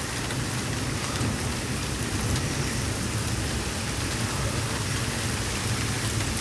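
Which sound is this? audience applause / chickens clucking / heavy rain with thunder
heavy rain with thunder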